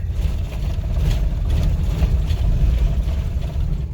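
A Ford Econoline van with a 2wd suspension lift kit rolls down a rough road at about 15 mph, heard as a continuous low rumbling drone with rattles and bumps from the road surface, steady and close, with no talking.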